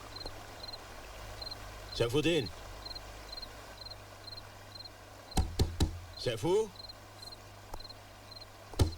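Knocking on a door during a dramatic film scene, two bursts of sharp raps separated by shouted voices, with a faint steady chirping ticking in the background.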